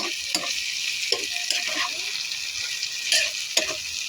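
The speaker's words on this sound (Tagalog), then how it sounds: "Mix lang natin ang ating nilutong ampalaya" Sautéed bitter gourd (ampalaya) being stirred in a pan, with a spatula scraping and clacking in short irregular strokes over a steady frying sizzle, close and clear, with no talk.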